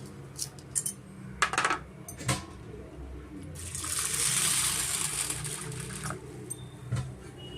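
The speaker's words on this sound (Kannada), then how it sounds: "ಬೇಳೆ ಒಂದೆರಡು ಸತಿ ನೀರು ಹಾಕ್ಕೊಂಡು ಸ್ವಲ್ಪ ನೀರಲ್ಲಿ ಚೆನ್ನಾಗಿ ವಾಶ್ ಮಾಡ್ಕೊಳ್ಳೋಣ" Toor dal lentils being rinsed in water in a kitchen vessel, scattered wet clinks and patters followed by a longer rushing swirl of water, fairly close and without talk.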